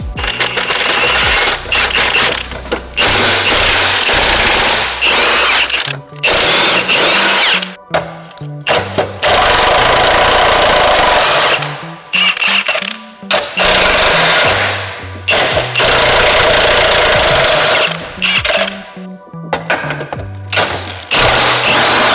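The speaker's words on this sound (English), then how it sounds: "If we just unbolt everything from the rails, it should just drop down." An impact wrench or power ratchet unbolting a Honda NSX suspension from the frame rails, firing in loud repeated bursts with rising and falling motor pitch, separated by short pauses, close by.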